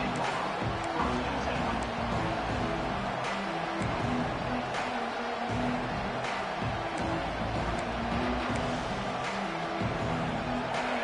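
Football stadium crowd noise, a dense sustained roar of many voices filling the stands, with a commentator's voice running over it at close range.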